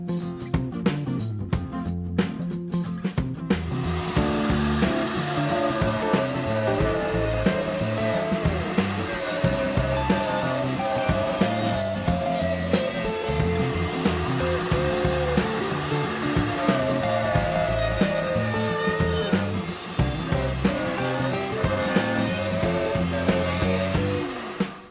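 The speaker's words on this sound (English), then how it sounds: "I set up the router table to cut rabbits" A router table roars continuously and loudly while cutting rabbets in wood, a dense whining motor noise with slight fluctuations throughout, no voices.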